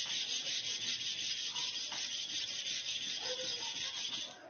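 A clipper blade is rubbed back and forth on a flat plate iron, making a continuous gritty, hissing scrape in steady strokes, close and fairly even in loudness.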